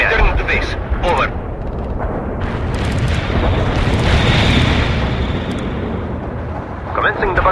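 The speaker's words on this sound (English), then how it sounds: "Launching a barrage." Artillery barrage explosions in World in Conflict roll together into a loud, sustained roar that swells and eases, with radio voices speaking over it at the start and end.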